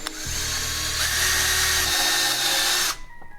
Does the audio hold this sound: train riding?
no